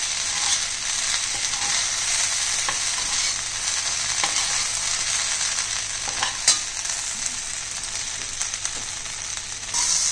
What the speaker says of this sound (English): And again stir fry on low flame till it gets crisp.